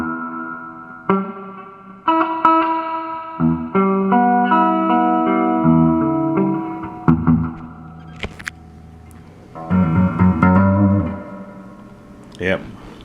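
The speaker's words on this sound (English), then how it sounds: "I got the reverb turned up to 12," Electric guitar played through a Peavey Classic 50 tube amp with reverb turned up high, a series of sustained chords and single notes ringing out with audible reverb tails, fairly loud, with brief pauses between phrases.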